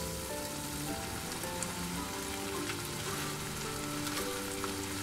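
Mutton pepper roast frying in a pan, village-style, as its liquid cooks off: a steady, dense crackling sizzle that runs evenly throughout with no voices.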